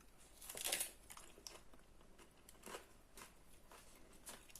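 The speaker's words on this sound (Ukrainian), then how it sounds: "А цю, а цю зелень можна так хрумкати." Fresh green herbs served with green dumplings are crunched and chewed close to the mouth, with soft irregular crisp bites and crinkly snaps at a quiet level.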